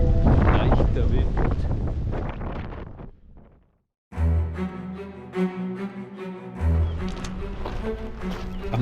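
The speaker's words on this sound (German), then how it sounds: "Leichter Wind." Light wind buffets the microphone along a hiking trail in Patagonia near El Chaltén, coming in rough gusts that drop out briefly before returning in uneven bursts.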